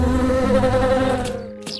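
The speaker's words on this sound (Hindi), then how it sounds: "राजू के जाने के बाद चंदन वहां से मक्खियां भगाने लगा" Flies buzz in a 3D animated Hindi story set at a paan shop, a loud, steady, close-up drone that holds for over a second before thinning out, with no talking.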